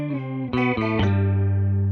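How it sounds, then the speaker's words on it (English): A stereo guitar pedal's detune effect thickens sustained, distorted guitar chords with a wavering, chorus-like shimmer; a few chord changes ring out loud and close, then one sustains and fades slowly. "And you can hear that detune effect."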